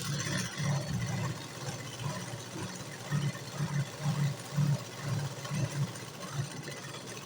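A sewing machine stitches a blouse in short bursts of low, rapid mechanical whirring and thumping, close by and moderately quiet, with brief pauses between runs.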